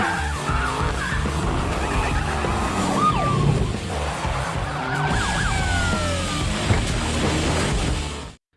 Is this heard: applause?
no